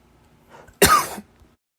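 A single harsh cough bursts out loud and close after a moment of near silence, lasting under half a second.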